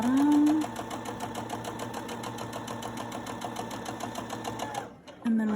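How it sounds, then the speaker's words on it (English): Sewing machine running a steady straight stitch on a fabric face mask, its rapid mechanical chatter continuous and close, briefly pausing near the end before resuming, with a voice talking over it throughout. "I'm going to do a straight stitch, back up, touch my strap, and then I'm going to keep sewing down to the bottom."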